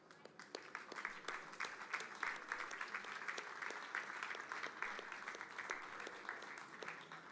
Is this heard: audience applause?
yes